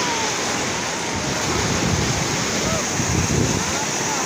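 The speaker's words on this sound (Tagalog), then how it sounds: "Malakas yung alon." Strong sea waves surge and churn at a beach in stormy weather, a loud, continuous rushing wash blended with gusty wind buffeting the microphone.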